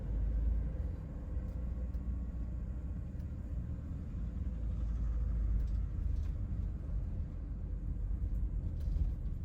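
A car cruises along the original A6 road between Adlington and Preston, a steady low engine and tyre rumble heard from inside the cabin with little variation and no talking.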